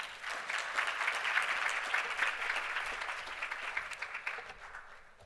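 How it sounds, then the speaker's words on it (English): Summit audience applauding at the closing, a sustained round of clapping that slowly fades toward the end, moderately distant. "Please give yourselves a round of applause."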